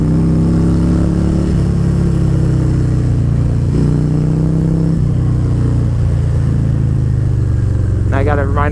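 Harley-Davidson 2019 Road King Special with the 114 engine on a test ride, its steady low engine drone rising and falling under continuous wind rush and a talking rider.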